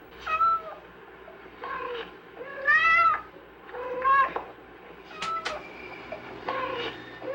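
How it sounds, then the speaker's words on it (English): A domestic cat gives a series of distinct meows and call variations, about seven separate vocalizations spaced by short pauses, fairly quiet and close, alone with no talk. "cats produce about 15 basic calls"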